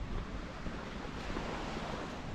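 Surf washing onto the sand at Palmanova beach in Mallorca, a steady broadband wash with wind buffeting the microphone, continuous and fairly close, with no clear individual wave breaks.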